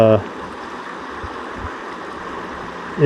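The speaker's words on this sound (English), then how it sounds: "This is the creek." A creek on rural California acreage flows with a soft, steady rush of water, with a voice briefly heard at the start and end.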